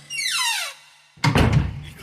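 A room door swings with a falling creak, then shuts with a loud close thud and a brief rattle as it settles, a sound effect in a horror radio story, with no talking.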